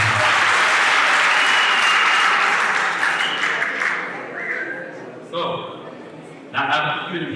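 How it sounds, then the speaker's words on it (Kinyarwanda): Audience applause fills a talent competition launch event, a loud, dense clapping that holds for about four seconds, then thins out as scattered voices and brief bursts of cheering rise above it. "Amashyi menshi cyane"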